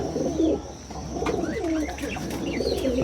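Pigeons in breeding condition cooing inside a loft, several overlapping soft, throaty coos rising and falling close by against a constant low background rumble.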